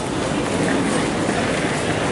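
A New York City subway train, the 2 and 3 line, rumbles steadily in a continuous loud roar of wheels and carriage noise, unbroken for the whole stretch.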